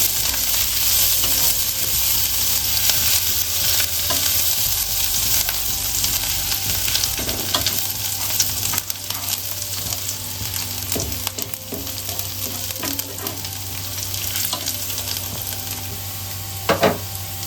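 Garlic frying in a pan as the base for desi masala chicken pasta, a loud, close, continuous sizzle with spatula stirring scrapes and clicks scattered throughout, with no one speaking.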